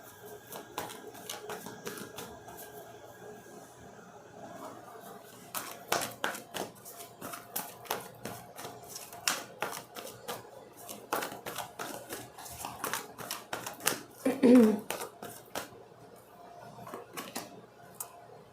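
Tarot cards are handled and shuffled close by, making quick irregular clicks, taps and riffles in uneven flurries, with a brief faint voice partway through.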